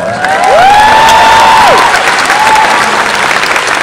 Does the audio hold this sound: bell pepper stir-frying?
no